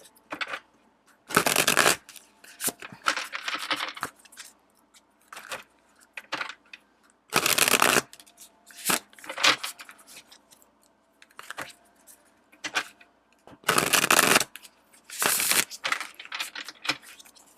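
Tarot cards are handled and shuffled close up. Bursts of riffling and flicking alternate with short slaps and quieter shuffling in an irregular rhythm, with no talking.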